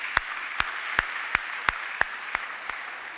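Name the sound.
audience applause in church service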